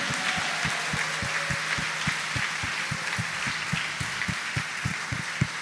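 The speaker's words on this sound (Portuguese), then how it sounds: "uma salva de palmas para o oleiro" Congregation applauding inside a church during a Sunday Mass, a steady wash of clapping with a regular low thump beating underneath throughout.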